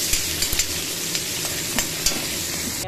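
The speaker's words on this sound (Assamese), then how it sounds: "তেলত দিলো হিঙি মাছ" Small hingi fish rubbed with salt and turmeric fry in hot oil, giving a steady close sizzle dotted with sharp crackles and pops.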